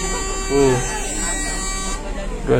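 A bus horn sounds as a long, steady, droning blast at the busy Bakauheni ferry port, with engine rumble beneath and brief voices cutting in.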